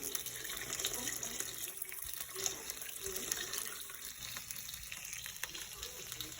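Tap water runs steadily into a pot while a gumbo is being cooked, a continuous hiss with some faint sizzling from the stove.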